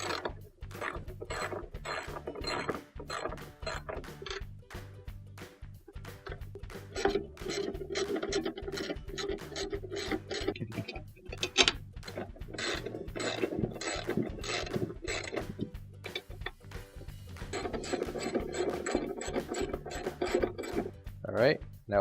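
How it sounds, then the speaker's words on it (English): A ratchet with a 1/2 inch socket tightens the legs back onto a washing machine, giving rapid repeated clicking bursts with brief pauses between runs, close and fairly quiet, with no talk over it. "Now we'll secure the legs back on, and using our 1/2 inch socket,"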